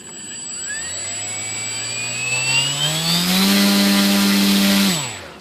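Electric motor on an E-flite Conscendo S model glider spinning its folding propeller, a close whine that rises steadily in pitch and loudness, holds briefly at full speed, then cuts off.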